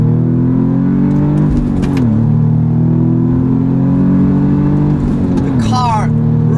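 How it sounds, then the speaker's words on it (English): A 2018 Audi S3 Sportback engine revs loudly and steadily as it accelerates in second gear, a continuous drone rising in pitch, with a brief dip around a gear change near the end. "We're in second gear now, and then simply go for it."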